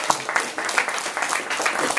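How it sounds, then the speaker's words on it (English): A group in a speech class applauds themselves, a dense, steady patter of many hands clapping at close range for a couple of seconds. "give yourself a round of applause"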